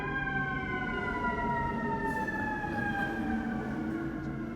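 Emergency vehicle sirens wail outside at a distance, several overlapping tones sweeping slowly up and down, steady and moderately faint throughout with no talking.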